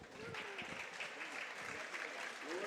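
A gymnasium crowd applauds and cheers at a high school volleyball playoff, sustained clapping throughout with scattered shouts and whistles from many spectators.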